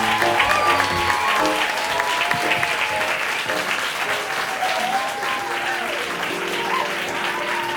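A live comedy theater audience breaks into loud, sustained applause with cheering and whoops throughout, a thick continuous roar of clapping that holds steady from start to finish.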